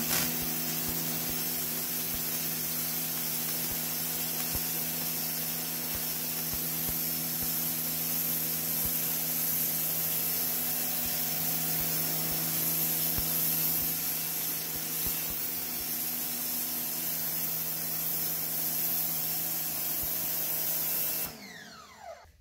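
A Sun Joe 4000 pressure washer with its highest-pressure nozzle blasts caked mud off a Tesla car floor, a loud, steady hissing spray running unbroken for about twenty seconds before cutting off abruptly.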